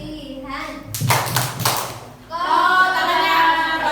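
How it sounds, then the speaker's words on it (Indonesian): Young schoolchildren do a rhythmic clapping chant about a hadith on cleanliness during a school orientation session, with a short burst of sharp hand claps between stretches of children's voices and a teacher talking. "Tepuk hadis kebersihan."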